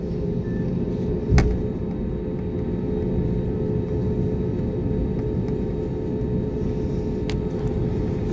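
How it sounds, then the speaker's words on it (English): An airplane waits on the runway at night before takeoff, its engines making a steady low rumble and hum with a sharp click near the start and another later. "So now I think the plane will turn or not turn and take off."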